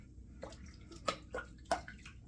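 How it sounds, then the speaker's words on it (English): A thumb being washed in warm, soapy sink water, with faint splashes and dribbles in a few short bursts, close and quiet with no voices. "Just washing off my thumb here in the soap, in the sink water, in the warm sink water"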